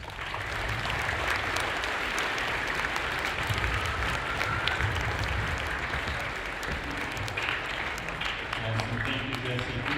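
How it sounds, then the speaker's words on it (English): Audience at a school Veterans Day assembly applauds student performers, with steady dense clapping held loud for the full stretch and voices mixed in beneath it. "We need another round of applause to Ivy, Rex, Jenna, and Jesse."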